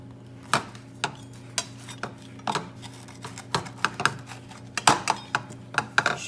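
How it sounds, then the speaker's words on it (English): A pizza cutter slicing down the middle of a chicken quesadilla, giving a string of crisp, irregular clicks and short scrapes close by, with a steady low hum underneath. "use a pizza cutter to cut right down the middle"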